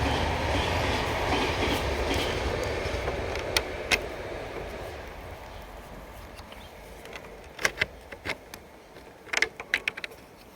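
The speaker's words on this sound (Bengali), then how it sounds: "ওই যে ট্রেন যাচ্ছে, ট্রেনের আওয়াজ" A train passing on a rail line close to a house, a broad rumbling roar that gradually fades, with sharp metallic clicks and clacks standing out toward the end.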